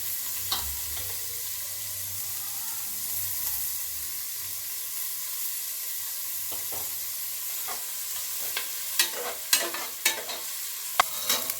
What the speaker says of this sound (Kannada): ಎಣ್ಣೆ ಕಾದಿದೆ. ಇದಕ್ಕೆ ಕಟ್ ಮಾಡ್ಕೊಂಡಿರೋ ಈರುಳ್ಳಿ ಮತ್ತು ಸ್ವಲ್ಪ ಅರಿಶಿನ ಹಾಕ್ತಾಯಿದ್ದೀನಿ.